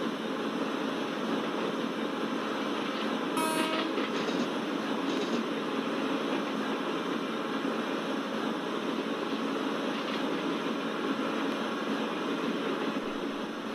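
The 16335 Nagarcoil Express heard from inside the locomotive cab: a steady, loud rushing roar of the running train with faint clicks of wheels over rail joints and a brief higher screech early on, no talk.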